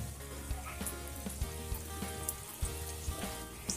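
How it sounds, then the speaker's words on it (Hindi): Keema rolls sizzling in hot oil, a steady close fry with light popping and crackle throughout. "गोल्डन कलर आने तक हम रोल फ्राई करेंगे।"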